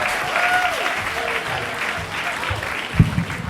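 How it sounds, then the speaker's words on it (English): Steady audience applause for a stand-up comedian at a comedy club, a dense wash of clapping filling the room with some faint voices mixed in and a brief louder burst near the end. "Keep that applause going for your next comic"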